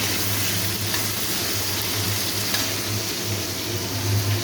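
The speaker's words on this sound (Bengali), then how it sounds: "পেঁয়াজটা আমাদের একটুখানি লাল করে ভেজে নিতে হবে" Chopped onions fry in a pan with a loud, close, continuous sizzle and crackle, steady throughout with a low hum underneath.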